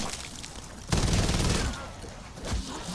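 Rapid automatic fire from an upgraded light machine gun with attachments in Black Ops 7 Zombies, running about 1100 to 1200 rounds per minute; a loud, dense burst starts about a second in over steady game noise.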